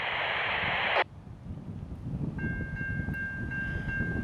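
A Norfolk Southern freight train led by a GE ES44AC locomotive rumbles steadily past at close range with heavy wind buffeting the microphone, and a steady horn-like tone sounds partway through.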